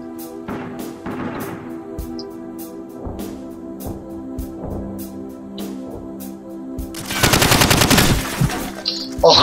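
Rapid automatic gunfire from a video game battle, close and loud, firing in steady bursts of sharp shots before a denser, louder barrage near the end.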